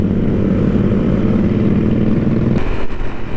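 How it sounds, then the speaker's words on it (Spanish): A motor tricycle rolls up from behind at a motorcycle festival, its engine a loud, close, steady rumble that holds for about two and a half seconds before the tone shifts. "Aquí atrás viene un triciclo."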